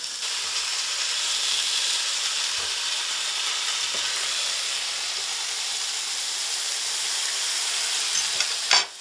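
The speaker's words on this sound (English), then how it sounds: "Okay, so the mushrooms, you can hear them sizzle." Close, steady sizzling of portabella mushrooms cooking on a hot grill, a continuous bright hiss with a brief clatter near the end.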